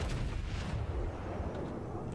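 A naval gun on the battleship Kongo in World of Warships fires, leaving a deep, rumbling boom that fills the whole moment and slowly fades.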